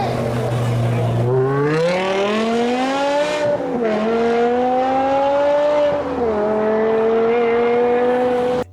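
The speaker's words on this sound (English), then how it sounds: "Rear-wheel drive station wagon with a V10." A BMW M5 E60 V10 engine wails loudly and continuously at high revs, its pitch climbing, dipping briefly, then rising again through the gears.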